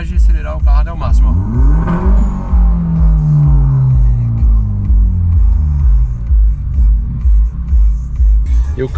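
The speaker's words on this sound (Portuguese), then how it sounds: "Pisar na embreagem e acelerar o carro até o máximo." Car engine revved hard toward maximum with the clutch pressed, on a DS3 fitted with a new RCZ clutch, lightened flywheel and short shifter; a loud rising rev sweeps up and falls back, with a voice talking over the engine.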